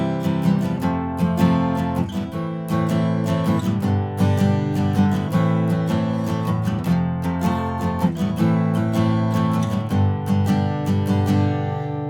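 An acoustic guitar strums the chords of the pre-chorus of a song in a steady, even rhythm of bright repeated strokes, close and clear, with no one talking.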